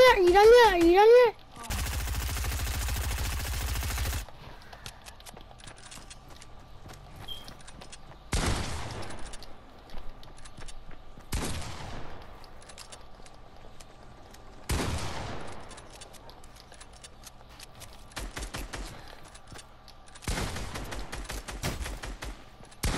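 Gunfire in the video game Fortnite: several sharp, loud bursts spaced a few seconds apart over a steady game background, with a voice heard briefly near the start.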